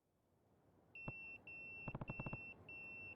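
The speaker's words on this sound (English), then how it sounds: "That's my beeper." A pager in the video game Yakuza 0 gives a run of high electronic beeps, steady tones broken into short bursts with quick rapid pips in the middle, clear and close against a quiet background.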